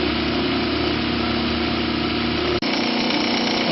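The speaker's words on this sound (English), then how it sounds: "Just making the second motor spin." An AC motor spins steadily on power from a generator in a rotary-inverter setup, giving a continuous high-pitched whine and hum that cuts out abruptly for a split second before resuming.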